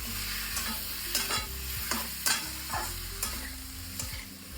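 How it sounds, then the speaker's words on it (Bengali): Marinated chicken for a stew being stirred and fried in a pan, a continuous close sizzle broken by repeated scraping strokes of a utensil at an uneven rhythm. "এই ম্যারিনেশন করা চিকেনটা আমি দিয়ে দিলাম। দেওয়ার পরে আমি জাস্ট একটু নাড়াচাড়া করে"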